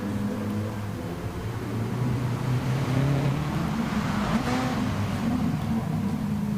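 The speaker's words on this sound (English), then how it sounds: "let you guys listen to some cars for a few minutes" GT3 race cars lapping Spa in a racing video game, a continuous blend of engine roar and revving that swells slightly midway, with no commentary over it.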